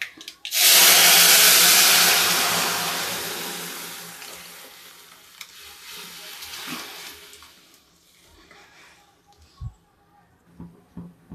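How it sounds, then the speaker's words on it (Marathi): Cooked cowpea and potato vegetable poured into hot mustard-seed tempering bursts into a loud, close sizzle that fades over several seconds, with a few scattered crackles and pops afterward. "फोडणीचा आवाज, मोहरीचा आवाज उडण्याचा तडतड बंद होत आलेला आहे"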